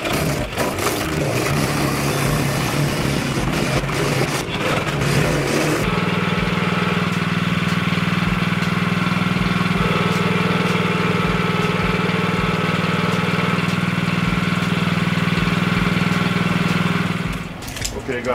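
A plate compactor engine runs while compacting the base layer of a herringbone paver walkway: a loud, steady drone that shifts to a deeper thumping hum partway through and holds nearly to the end.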